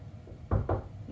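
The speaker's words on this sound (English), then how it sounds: "I knocked on the door" Knocking on a door at home, two quick, solid knocks close to the listener against a quiet room background.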